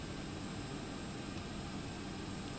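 Air conditioning packs on a Boeing 767-300 in the X-Plane 12 flight simulator give a constant broadband roar, steady and fairly quiet, with no speech.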